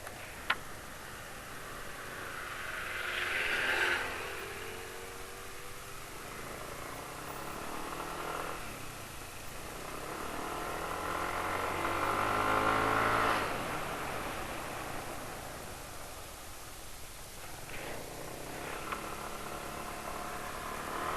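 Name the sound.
rough-running motorcycle engine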